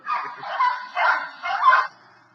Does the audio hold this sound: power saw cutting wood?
no